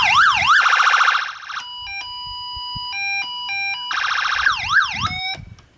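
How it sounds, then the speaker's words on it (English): An electronic siren from an underwater diver-recall speaker cycles through several distinct patterns: rapid wailing sweeps, then steady alternating two-tone beeps, then wailing again, loud and close with no talking. "It also has siren sounds, 6 different ones."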